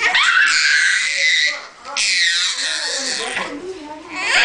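A baby screams and cries in loud, shrill wails broken by brief gasps between bursts, close to the microphone.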